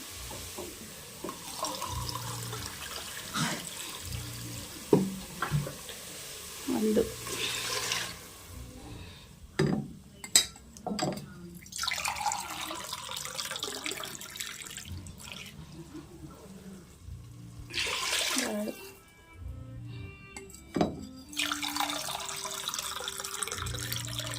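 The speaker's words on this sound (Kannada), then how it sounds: "ಮೂರು ಲೋಟ ನೀರು ಹಾಕ್ಕೊಳ್ತೀನಿ" Three glasses of water poured into a cooking pot in a home kitchen after frying, a few separate splashing pours with pauses and clatter between them, close and fairly quiet, no voices.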